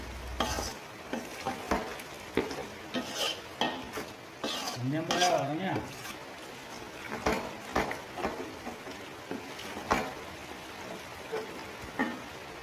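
Macaroni being stirred with pepper in a pan, repeated scraping and clinking of a utensil against the pan over a soft sizzle, close and intermittent for several seconds.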